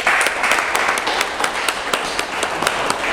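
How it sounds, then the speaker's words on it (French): An audience at an event in Burundi claps for a partner named Michel, a brisk, crowded patter of applause with sharp individual claps standing out close by. "Je vous prie de l'applaudir s'il vous plaît."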